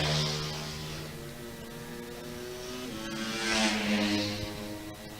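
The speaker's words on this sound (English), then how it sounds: "And it's for 5 Honda 150s in front, followed by the pit bike opens." Honda CRF 150 and pit bike motorcycles racing at Lydd, with several engines droning at once and a louder, closer one swelling past midway through before fading.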